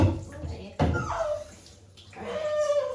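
Water poured over a dog during grooming splashes in short bursts near the microphone, with a sharp splash partway through and a steady pour near the end, while someone talks softly over it.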